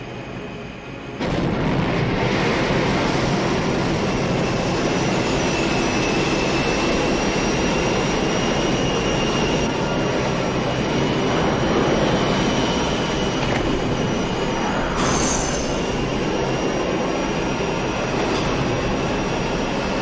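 A roaring airship engine in the video game Final Fantasy XII, a loud continuous rumbling drone with whooshing swells that starts abruptly and holds steady for the whole span.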